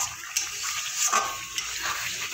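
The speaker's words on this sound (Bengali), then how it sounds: "এবার দিয়ে দেবো জল।" Water is poured into a pan of rui posto, rohu fish in poppy seed gravy, making a short, close splashing gush that rises and falls over a couple of seconds, with no talking.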